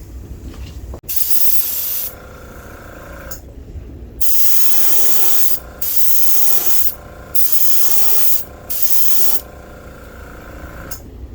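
Spray paint is applied to a Storm V45 Brown Craw fishing lure in several separate bursts of loud, steady hiss, each lasting about one to one and a half seconds, with quieter gaps between them.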